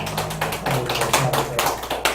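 Hands clap steadily and close by as a church congregation gives praise, a run of rhythmic claps lasting a couple of seconds with a faint tone in the background.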